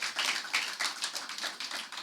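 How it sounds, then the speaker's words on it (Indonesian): Church congregation at an Easter service applauding, a dense, steady wash of many hands clapping together with no voices standing out. "beri tepuk tangan yang meriah buat Tuhan"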